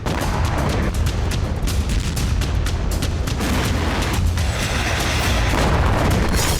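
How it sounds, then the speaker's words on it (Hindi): Anti-aircraft gun fire during attacks on Kharkiv, a dense continuous barrage of loud rapid booming reports that overlap into a constant roar, with no pauses between shots. "रूसी सेना ने एंटी एयरक्राफ्ट गन से खार्किव पर हमले किए"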